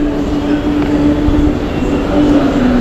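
A moving train rolls steadily past Tiruppur, a continuous close rumble of wheels and carriage noise with a faint tonal whine running through it.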